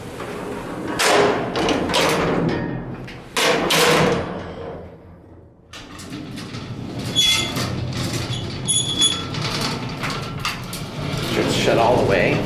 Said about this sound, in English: And now we're going to close the door.